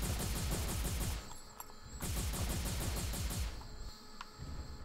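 Rifle fire in the mecha video game M.A.S.S Builder: loud, rapid automatic bursts rattling steadily, broken by two brief gaps before the shooting resumes.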